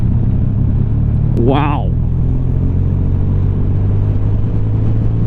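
A 2020 Triumph Rocket 3 GT motorcycle engine pulls from 30 mph in 6th gear, a steady deep close rumble with wind roar, while a rider briefly exclaims mid-clip.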